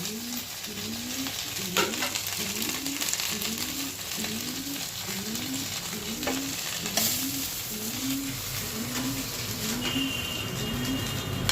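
Bhetki fish paturi wrapped in foil fries in a pan with a steady sizzle, while a regular low cooing, like a pigeon or dove, repeats about once a second in the background throughout.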